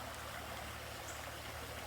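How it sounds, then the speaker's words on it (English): Creek flowing past a local park, a steady broadband rush of running water, constant and fairly soft, with no voices. "at our local park by the creek"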